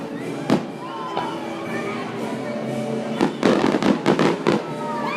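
Fireworks burst outdoors with a sharp early bang, then a quick run of loud cracks and pops, heard over steady background noise and voices.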